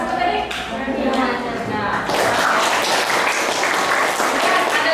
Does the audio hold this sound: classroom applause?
yes